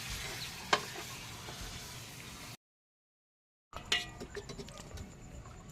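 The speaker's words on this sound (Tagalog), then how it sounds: "nagluluto ng bagoong isda, tapos may sili" Bagoong fish paste with chili frying and being stirred in a pan, giving a steady sizzle with occasional clinks. A brief silent gap splits the sizzle, then it returns with a few sharper taps.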